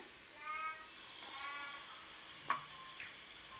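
Jackfruit biryani gravy with curd being stirred in a pot, a faint simmering sizzle with soft scraping strokes and one sharper clink of a spoon against the pot near the end.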